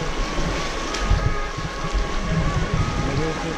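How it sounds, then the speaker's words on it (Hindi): Fast stream water flowing strongly at a cave entrance near Dehradun, a loud steady rushing roar that fills the whole clip up close, with no clear speech over it. "पानी की बहाव देखो तेज है"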